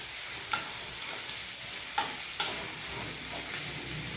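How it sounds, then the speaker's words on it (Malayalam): Chopped onions sizzling in hot oil, a steady crackling fry with a few sharp pops and stirring clatters, close and moderately quiet. "ചൂടായ എണ്ണയിലേക്ക് സവാള ഇട്ട് കൊടുക്കുകയാണ്"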